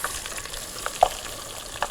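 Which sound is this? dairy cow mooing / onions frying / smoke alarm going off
onions frying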